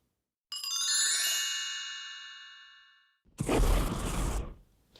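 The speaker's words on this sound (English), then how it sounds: "click the little notification bell" A bright notification bell chimes once with a long ringing decay, followed after a brief pause by a short whooshing burst; clean and close, with no voices.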